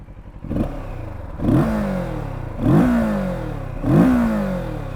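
Kawasaki Ninja 650 motorcycle from 2024, with its exhaust tucked under the engine, idling and then revving sharply three times in a steady rhythm, each blip rising and falling back to a close, loud idle.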